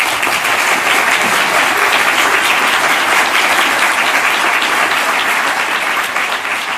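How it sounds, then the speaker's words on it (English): Dense, sustained audience applause at a speech event on ocean protection, a steady roar of many hands clapping for the full length with no voices above it. "Let's give him a round of applause for that."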